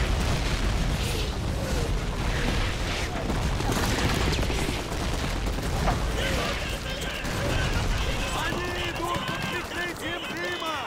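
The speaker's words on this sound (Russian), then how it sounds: "Добавим немножко взрыва, чтобы было более эпично смотрел." Explosions and gunfire fill a Call of Duty 2 battle in a dense, continuous roar of booms and shots, with someone talking over the din throughout.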